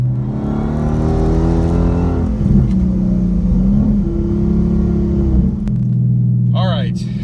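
A 2019 Dodge Challenger Scat Pack accelerates hard from a standstill toward 60 mph on a street, tires spinning as the engine rises and shifts through a loud, close revving roar, with a voice speaking near the end.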